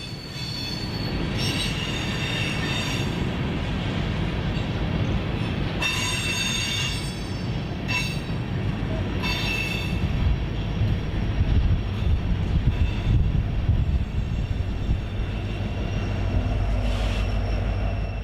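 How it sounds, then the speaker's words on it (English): A heavy BNSF freight train approaches on the main line, rumbling steadily with loud, continuous wheel noise and high metallic squeals of wheels on rail rising and falling throughout. "we can hear the opposing train coming down the main line"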